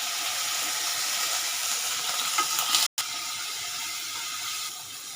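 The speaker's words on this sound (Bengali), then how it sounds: "আমি একটু পেঁয়াজ দেবো," Chopped onion sizzles in oil left over from frying jackfruit kofta, a steady close hiss that cuts out briefly partway through.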